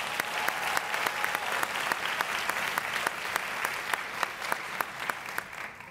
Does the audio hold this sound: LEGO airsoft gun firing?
no